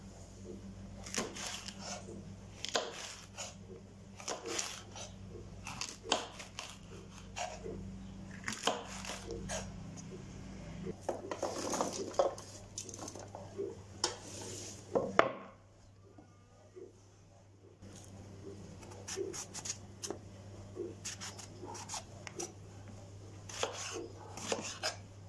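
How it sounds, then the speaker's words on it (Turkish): Vegetables are chopped on a cutting board, a quiet, close series of irregular knife taps with a brief pause midway. "Sonrasında hiç fark etmez sebzelerimi sırayla doğramaya başlıyorum."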